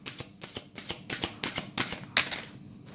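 A deck of tarot cards being shuffled and drawn during a reading, giving a series of close papery riffles and snaps that build to one sharper slap near the end.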